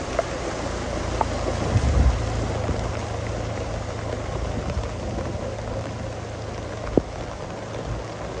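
Steady rain falls during flooding in Jaffna, Sri Lanka, a continuous broadband wash with a low rumble and occasional louder drops, no voices over it.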